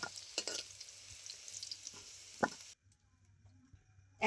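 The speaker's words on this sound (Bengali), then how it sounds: "আলুটাও খুব ভালো করে ভেজে নিয়েছি," Potatoes fry in a pan of oil, a soft steady sizzle with a few light stirring knocks, fading to near silence partway through.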